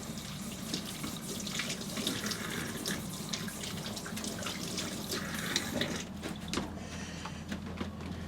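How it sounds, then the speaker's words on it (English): Tap water runs steadily from an RV faucet into the sink, filling and splashing continuously at close range with a few brief clatters near the end, and no talking. "I didn't really turn on the cold water there too good."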